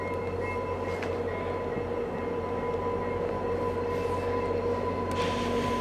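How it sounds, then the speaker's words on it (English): A VIA Rail train rumbles steadily nearby in Stratford, a low continuous roar with a droning tone and a few faint clanks, no talking. "And here comes the train, guys."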